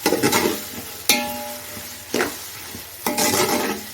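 Onions sautéing in a pan for mutton biryani, with four distinct scraping stirs spaced about a second apart over a steady low sizzle, close and clear with no voices.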